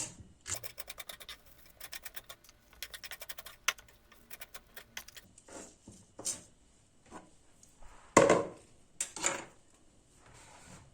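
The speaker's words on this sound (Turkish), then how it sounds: "Önce şu saplarımızı doğrayalım." A knife chops celery stalks quickly against a cutting board in a fast run of sharp taps, followed by a few scattered clatters and scrapes.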